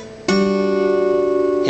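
A single plucked guitar note sounds softly, then a stronger picked note rings out and sustains with steady tone, close and clear.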